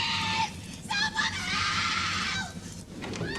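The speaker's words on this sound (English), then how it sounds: "Hearing her screams" A woman screams in terror, calling for help during a house fire, her shrill, desperate cries rising and breaking repeatedly, close and loud over a noisy background.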